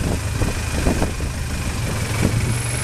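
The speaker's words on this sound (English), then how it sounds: "Got a big four-cylinder engine behind us." Big four-cylinder engine mounted on a long shaft driving a Thai longboat along a canal near the Damnoen Saduak floating markets, a steady close engine drone with a low throbbing beat and some water wash, no voices.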